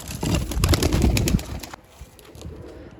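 Pigeons coo in a pigeon loft, a cluster of throaty, rolling coos up close for the first second and a half, then fainter cooing and shuffling.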